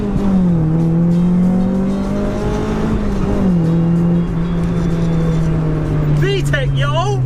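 A Honda Civic Type R EK9 driving, heard from inside the cabin, with a loud steady engine drone whose pitch dips and rises slightly through gear changes, plus road noise, and a brief voice at the end.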